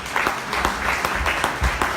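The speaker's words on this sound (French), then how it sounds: "Vraiment, on peut l'applaudir surtout." An audience at a French testimony gathering claps for a family member, a short, dense burst of applause close by.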